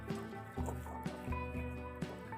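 Water fills a chicken drinking bottle in short pulsing surges, each with a ringing, resonant tone, close and moderately quiet, with no talking.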